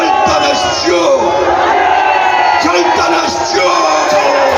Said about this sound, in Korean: 광화문 애국 시민들의 외치는 만세 소리를 들으시고